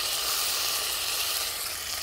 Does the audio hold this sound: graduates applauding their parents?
no